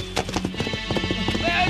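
A loose horse clip-clops in quick, steady hoofbeats close by, running off after its tether is accidentally released, with a brief whinny-like tone near the end.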